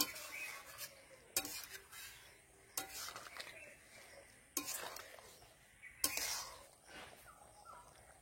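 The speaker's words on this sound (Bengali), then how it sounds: "এবার ভালো করে নেড়ে দিচ্ছি।" Vegetarian jackfruit curry, seasoned with ghee and spice masala, being stirred in a pan: scraping, clattering spoon strokes come in several bursts, with faint background sounds between them.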